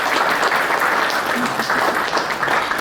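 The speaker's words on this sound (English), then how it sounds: "if we could give him a big round of applause to Milo Garza." Applause from the audience at a county commissioners court meeting, a dense, fairly loud clapping that continues steadily throughout.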